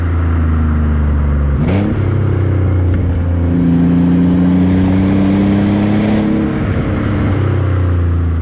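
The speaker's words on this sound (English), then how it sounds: "there's a very juicy exhaust on this" An Alfa Romeo 156 GTA engine rumbles steadily with a deep, throaty sports exhaust note, rising and easing slightly as it revs, loud and close.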